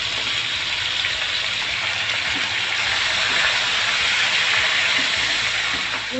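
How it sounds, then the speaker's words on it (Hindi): Mutton sizzling and frying with garlic in a pot for degi biryani, a loud, steady hiss of hot oil that continues evenly throughout with occasional small pops. "अब गोश्त डाल के अच्छे से इसको भूनना है हमें।"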